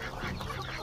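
Chickens cluck on a farm also kept with ducks, geese and turkeys, a brief, dense burst of poultry noise at close range.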